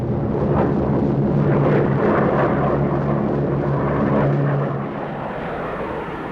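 A Korean War era Marine aircraft engine roars loud and steady with a droning tone, then eases to a lower level near the end.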